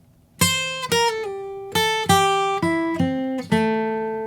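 A slow guitar ending riff in a particular player's style, about eight plucked notes, each ringing clearly before the next, played alone at a steady, deliberate pace.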